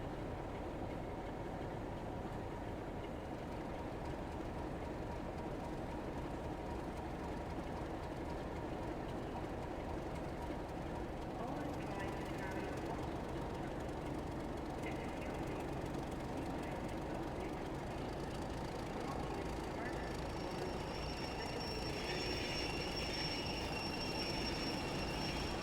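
Simulated electric commuter train on the Cathcart Circle Line in Train Sim World 3 pulls away and runs steadily, a continuous low motor and rolling drone with faint higher whines and wheel tones building toward the end.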